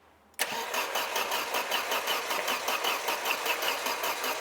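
An 80s 16-valve race-bred saloon, a one-owner barn find unused for over 20 years, cranks over steadily after a sudden start, a loud close rhythmic churning with regular pulsing that never catches, no voices.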